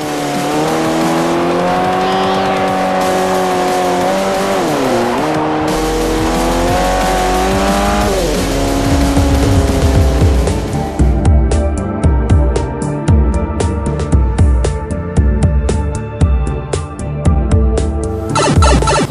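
Race cars from Forza Motorsport 4 on Xbox 360 roar and rise in pitch as engines rev, then give way to dense, busy engine noise with squealing tires, loud and continuous throughout.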